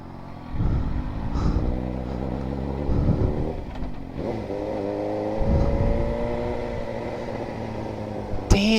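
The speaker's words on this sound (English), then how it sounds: "That's Subaru!" A Subaru car accelerates past near a crosswalk, engine swelling and fading in several surges over steady road noise and motorcycle idle, ending with a sharp brief clatter.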